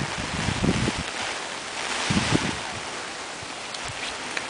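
Strong wind gusting across an exposed Danish coastline during a storm surge, a steady broadband roar with surf and buffeting microphone gusts swelling around the first and third seconds, close and loud with no talking.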